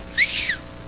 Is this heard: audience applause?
no